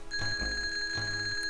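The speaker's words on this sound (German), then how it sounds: "Was ist das für ein Geräusch? Am Wecker." An alarm clock rings in the Super Mario RPG video game, a bright repeating electronic chime with a steady tone pattern, loud and alone without talk.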